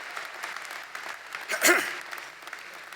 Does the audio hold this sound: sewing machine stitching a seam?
no